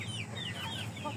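Giant Indio chickens clucking nearby, several short chirpy calls overlapping across a brief moment against a low steady background hum.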